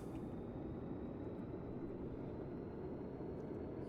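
A Rotodyne twin-turbine aircraft taxiing in Stormworks, a faint, steady low engine rumble and drone with a thin high whine, unchanging throughout and without talk.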